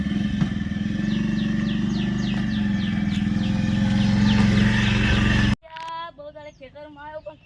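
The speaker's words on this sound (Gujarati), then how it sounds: "હવે હું બાઇક લઈને જઉં છું" A motorcycle engine drones loudly and steadily for several seconds, then cuts off abruptly, leaving only birdsong and faint voices.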